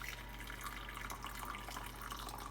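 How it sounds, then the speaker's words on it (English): Warm water running from a tap to fill a container and soak a Keurig water filter, a steady, close hiss of flowing liquid with faint dripping, no voices. "You take some warm water. Fill it up until it goes over it."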